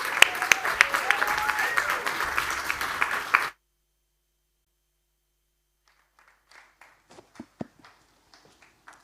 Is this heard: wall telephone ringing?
no